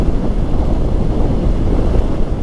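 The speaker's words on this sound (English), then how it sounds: "oh man, that wind is strong" Strong wind buffeting a microphone while riding an Indian Scout Bobber motorcycle, a loud, continuous low roar and rumble with no pause.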